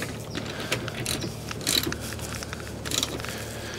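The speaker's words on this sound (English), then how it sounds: "Go ahead and tighten those back down." A ratchet wrench with a 13/16 socket tightens bolts on a 2024 Wired Freedom, giving a close, steady run of rapid clicking pawl sounds with a few louder bursts and no talking.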